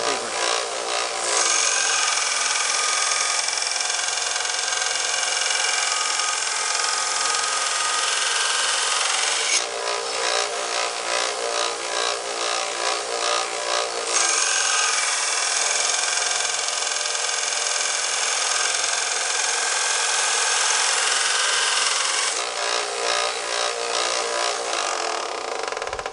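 A knife blade being ground down for stock removal is sanded with finer grit sandpaper, making a loud continuous abrasive rasp that runs steadily with brief rhythmic stroking passages, close up and alone.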